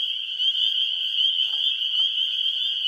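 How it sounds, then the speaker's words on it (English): Leopard frogs call in a Wisconsin marsh over a constant bright chorus of other frogs, their low croaks faint and scattered in the background. "We hear the leopard frog."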